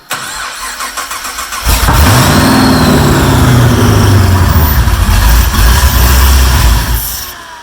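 An engine cranks and catches, then runs loud and close, its pitch rising and sagging in an uneven surge that holds steady for several seconds before dropping away.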